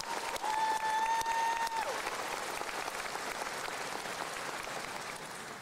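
An audience at a Ben Franklin graduation commencement breaks into sustained applause, many hands clapping loudly at first and then tapering slightly, with a brief electronic whistle tone early on.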